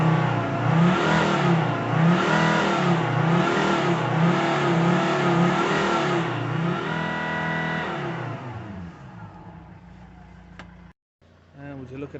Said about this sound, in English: And we'll give it a few revs.